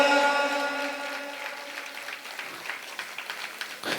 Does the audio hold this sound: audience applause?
yes